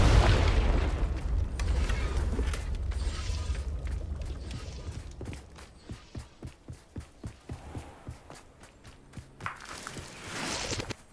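A Confringo spell explodes in Hogwarts Legacy with a loud, deep boom that fades out, followed by a run of quick rhythmic footsteps.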